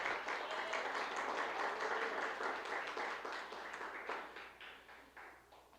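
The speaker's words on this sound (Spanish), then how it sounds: "Amén, denle un fuerte aplauso." A church congregation applauds during a sermon, a soft, dense wash of many hands clapping that slowly fades over several seconds, somewhat distant and faint.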